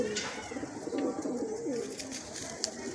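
Pigeons at a breeder's loft in Islamabad, Pakistan give soft, continuous low cooing close by, with faint rustles and a brief high chirp, and no talking over them.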